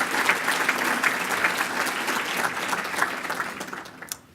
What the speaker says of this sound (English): I want to give her another round of applause